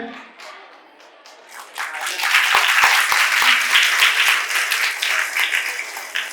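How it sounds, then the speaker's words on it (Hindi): Schoolchildren and guests at an Independence Day celebration welcome a special guest with applause, starting from a few scattered claps that swell into a loud, dense wave of clapping and then hold steady. "हम इनका तालियों से स्वागत करते हैं"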